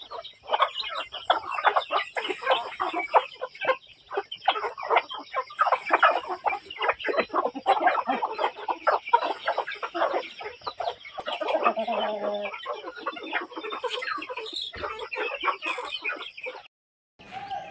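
Chickens, including naked-neck chickens, cluck and chatter steadily close by, with a dense, busy flock sound throughout and a brief muffled voice near the end.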